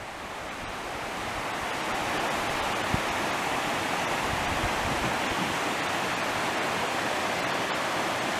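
Laurel Prong Creek, a mountain stream at the headwaters of the Rapidan River in Shenandoah National Park, rushing down as a steady, broad hiss of flowing water, close and continuous, with no voices.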